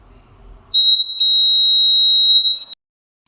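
An old water tank alarm buzzer under repair sounds one steady, piercing high electronic tone for about two seconds, loud and close, then cuts off into silence.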